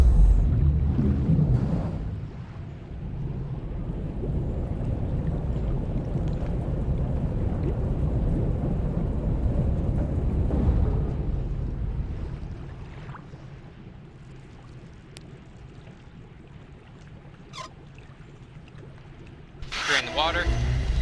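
Water draining out of a basin in the video game Riven, a low rushing, churning roar that holds steady for several seconds before tapering off into quiet.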